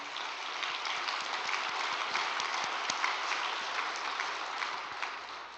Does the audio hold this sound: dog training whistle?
no